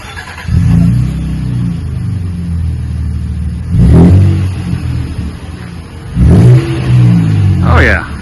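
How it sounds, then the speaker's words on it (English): A 2026 Nissan Frontier engine revs three times through a Magnaflow dual-in, single-out wide open muffler, each loud, close burst rising and falling over a deep rumbling idle between pulls. "We put the Magnaflow, like we said, the dual in, single out, wide open muffler"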